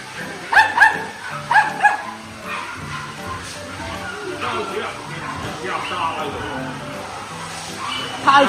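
A Pomeranian dog at a flower, bird and pet market gives two short bursts of sharp, high yapping barks, then a final bark near the end, with busy crowd chatter and talk throughout.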